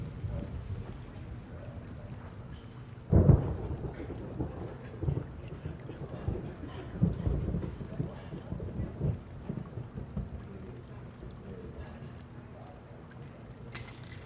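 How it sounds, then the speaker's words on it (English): Steady rain hisses in the background with a sudden low thunder crack and rolling rumble that fades, heard from indoors, with quiet talk. "Looks like the rain's letting up."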